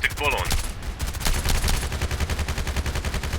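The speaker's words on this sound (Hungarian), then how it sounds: "most lövöldözni fogok, mint egy bolond." Rapid automatic gunfire in a first-person shooter video game, with dense, loud, close bursts of shots firing in a fast rhythm throughout.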